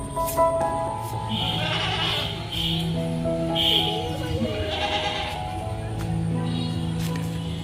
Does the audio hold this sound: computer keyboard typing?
no